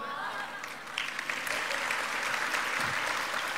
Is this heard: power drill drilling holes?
no